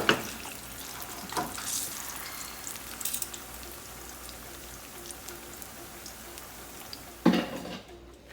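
Food fries in not-quite-hot-enough oil in a pan, a soft continuous crackle and hiss close by, with a few louder clinks and bumps at the start and near the end.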